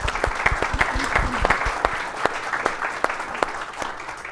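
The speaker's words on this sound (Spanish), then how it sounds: "Un aplauso para Sergio." Applause from the audience at a panel discussion on Chile's economic and labour crimes law, honouring the speaker Sergio: a dense, even wash of clapping with some distinct near claps, lasting about four seconds.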